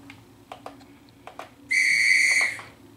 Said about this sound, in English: it was a conductor's warning whistle